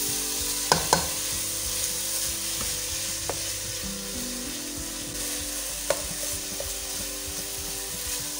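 A spoon stirs khoya for gajar ka halwa in a pan over low heat, giving a soft continuous sizzle with scattered clicks and knocks from the spoon, close and moderately loud, with no talking.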